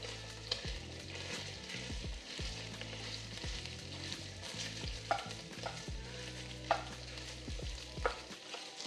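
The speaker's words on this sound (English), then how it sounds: "I like to start off with some Italian sausage. I'm gonna add that to the pan." Italian sausage sizzling in a hot pan as it is stirred and broken up with a utensil, a constant frying hiss with repeated scraping strokes and a few sharper knocks, close and steady with no talk.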